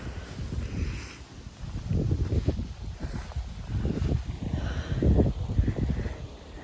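Gusty wind buffeting the microphone outdoors on Pierce Stocking Scenic Drive at Sleeping Bear Dunes, Michigan, a low rumbling roar that swells and fades continuously with no voices.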